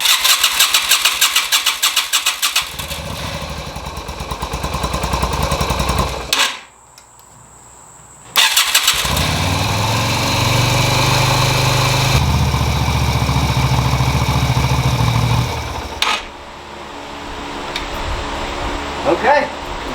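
A 1988 Yamaha Virago 250 motorcycle with a newly installed carburetor cranks and starts, falls briefly silent, then fires again and settles into a loud, steady idle with some revving, close to the listener.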